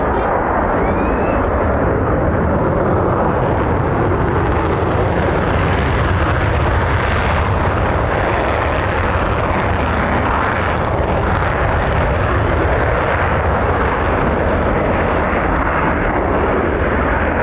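A military fighter jet, F-15 or F-35, running on afterburner at RAF Lakenheath gives a loud, sustained crackling roar throughout, with a voice talking over it.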